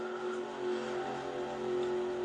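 International Race of Champions stock cars racing at Talladega, four laps from the finish: a steady, moderately distant drone of engines holding a sustained pitch with no voices over it.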